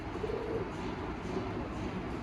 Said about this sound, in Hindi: दोस्तों चौथा कबूतर है, ये देख लो